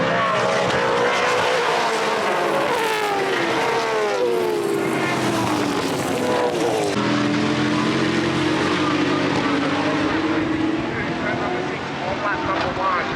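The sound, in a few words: Porsche race cars accelerating on track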